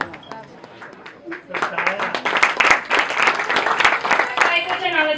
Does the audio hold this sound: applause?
yes